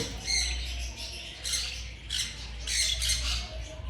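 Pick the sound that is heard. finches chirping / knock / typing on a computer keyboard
finches chirping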